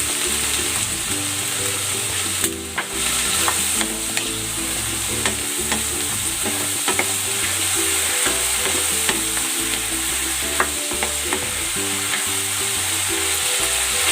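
Vegetables fry loudly in a pan with oyster sauce, salt and pepper. A continuous close hiss and crackle runs throughout, broken by occasional scrapes and clinks of a utensil stirring.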